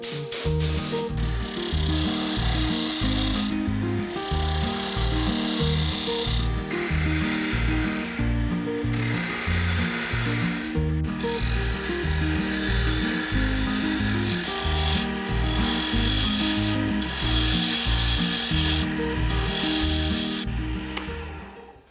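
A wooden crankbait lure blank spins on a small lathe, giving a continuous motor whir with rhythmic scraping and cutting pulses that repeat close by, and no one speaks.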